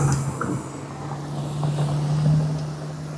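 Inside a 2014 Fiat Punto moving along a rough, potholed road, a steady low engine and road drone hums continuously with faint wind noise and a few soft knocks, and nobody speaks.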